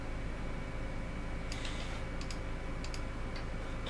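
A few sharp key presses on a computer keyboard, heard as several quick, close taps clustered over a couple of seconds above a constant hiss of background noise.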